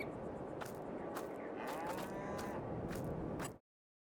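Cattle mooing in Farming Simulator 22 inside a large barn holding about 200 cows, with several overlapping moos over a steady dense farm background, then an abrupt cutoff.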